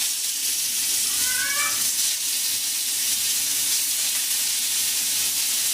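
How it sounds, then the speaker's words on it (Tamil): Rock fish frying in hot oil on a stone griddle gives a steady, close broadband sizzle throughout, with a brief high squealing whine early on. "இப்போ நெக்ஸ்ட் ஃபிஷ் ஃப்ரை பண்ணிடலாம்"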